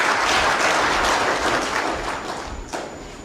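An audience at an election evaluation report launch applauds, a continuous, fairly loud wash of clapping that thins slightly near the end.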